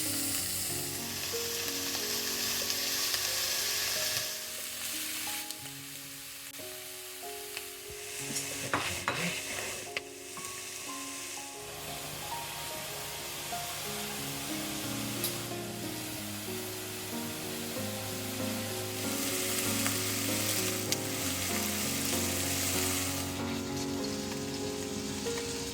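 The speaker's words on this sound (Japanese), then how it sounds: "じゃあチキンの皮を使って油出します。" Chicken skin frying skin-side down in a pan to render its fat for a home-cooked chicken gratin: a steady, quiet sizzle and crackle that runs throughout, with occasional louder pops and stirring sounds and no talk.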